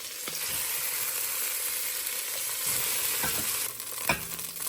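Seared meat sizzling in a hot pot as pieces are lifted out into a bowl, a steady loud frying hiss with a few scraping clinks of the utensil toward the end, no voices.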